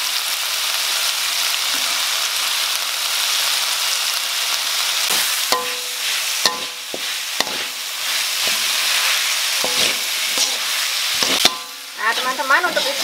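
Arem-arem filling stir-frying in a pan with ground pepper and sweet soy sauce, a steady close sizzle under repeated scraping and clattering strokes of a spatula, growing busier toward the end.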